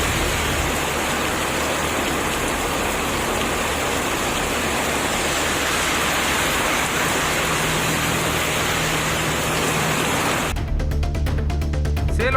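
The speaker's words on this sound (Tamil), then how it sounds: "சேலம் மாநகரில் ஒரு சில இடங்களில் பரவலாக மழை பெய்ததால் பொதுமக்கள் மகிழ்ச்சி அடைந்தனர்." Heavy rain pours steadily in Salem city, a dense continuous hiss that runs loud and unbroken for about ten seconds before a sudden shift to a choppier, clattering texture at the end.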